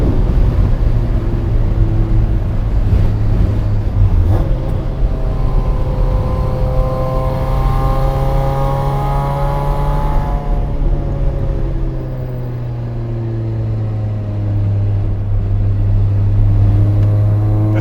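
A supercharged Mazda Miata drives along a winding road, its engine droning loud and steady from inside the car, the pitch rising and falling as it revs through gears and eases off around corners, with no speech.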